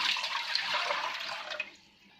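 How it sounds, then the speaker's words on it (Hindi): Water pours into a wok in a steady, hissing rush for about a second and a half before tapering off, close and fairly loud, with no talk. "एक कढ़ाई में पानी डालेंगे"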